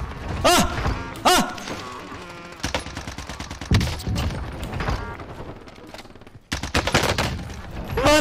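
Rapid bursts of C58 assault rifle fire in the video game Warzone, with loud repeated volleys cutting through dense in-game sound and background music across the clip.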